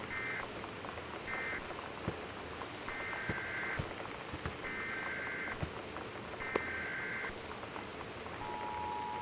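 Steady rain from a storm in the video game Gone Home, a constant hiss through the whole stretch with faint tonal game beeps recurring over it.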